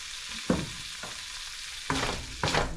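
Kabule shellfish frying in a pan for pancit canton with bihon, a steady sizzle broken by a few sharp stirring scrapes and clatters, close and fairly quiet with no talk.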